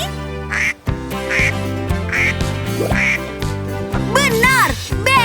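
A cartoonish duck gives several clear, evenly spaced quacks over an upbeat children's music backing, with a rising, sliding flourish of sound near the end.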